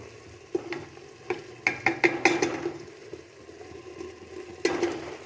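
A utensil stirs tomato puree into frying masala in a pan with a run of clear, close scraping strokes over a low sizzle. The strokes cluster in the middle and pause, and one more scrape comes near the end.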